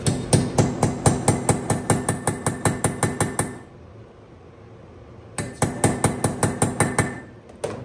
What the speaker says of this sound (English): 12mm deep socket works perfect. It's a nice tight fit, but all you gotta do is just put it on top, get a hammer, just tap it slightly